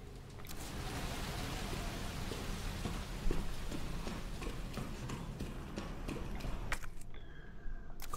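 Steady, dense rain patter from the Resident Evil 2 Remake game, a continuous hiss with scattered sharper drop hits throughout, ending in a brief quieter gap near the close.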